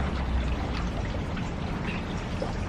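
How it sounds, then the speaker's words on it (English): Water pours steadily onto a potted Hoya obovata houseplant in one continuous, close, even stream without a break. "then you can do the watering for the plant babies"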